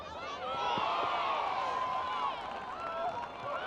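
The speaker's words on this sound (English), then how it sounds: "Draws the cheers from the crowd." A crowd at a women's hockey match between Argentina and Germany at the Champions Trophy cheers in a sustained swell that rises and then fades, heard under a commentator speaking.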